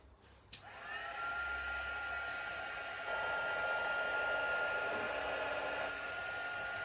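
A heat gun starts abruptly after a brief click, a steady, loud rush of blowing hot air holding a constant whine with a slight shift in tone partway through.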